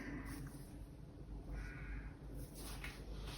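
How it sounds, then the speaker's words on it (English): Crows cawing outdoors, a few faint, hoarse calls in the distance against a low background hum. "I'm seriously getting so annoyed with these crows."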